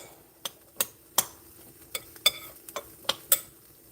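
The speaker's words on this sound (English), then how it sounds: "I'm going to stir that up." Raw shrimp are stirred through a peppery marinade with a spoon, giving about ten sharp clinks and scrapes against the bowl at an uneven pace. The room is quiet in between, and no one speaks.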